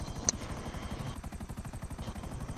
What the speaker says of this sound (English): We'll keep taking out the helicopters.